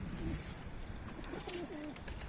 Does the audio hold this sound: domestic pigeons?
yes